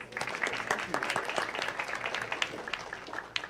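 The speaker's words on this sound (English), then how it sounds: "If we can give him a round of applause." A modest round of applause for a city councilmember at a Brooklyn community board meeting, scattered hands clapping at moderate distance with a few sharper claps and a voice or two mixed in.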